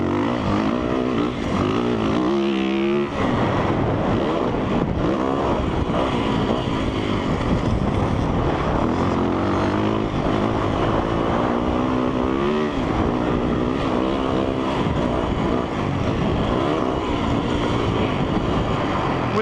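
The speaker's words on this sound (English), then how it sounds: "different note of the bike, and obviously it's not what I'm used to" A 2017 Yamaha YZ450F dirt bike engine revving hard while riding, a loud continuous buzzing roar rising and falling with throttle and gear changes, close up and with no voices.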